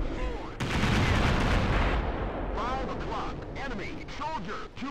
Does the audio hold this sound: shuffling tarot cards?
no